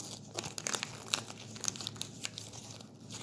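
A baking powder packet is opened up close with crisp crinkling and tearing of the wrapper, a run of sharp rustles and snaps at moderate loudness, with no talking.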